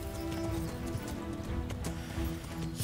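Horse hooves clip-clop steadily in the medieval role-playing game Kingdom Come: Deliverance, moderately loud and close with a rhythmic gait and faint background ambience.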